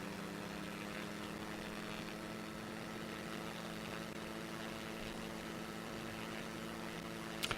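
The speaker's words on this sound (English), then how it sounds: "you'd really need some noise-canceling headphones when you're flying this plane, because, you know, there's nothing between you and the propeller." The propeller engine of a powered hang glider in the X-Plane 11 flight simulator gives a steady, droning hum that holds at an even level from start to finish, with no voices.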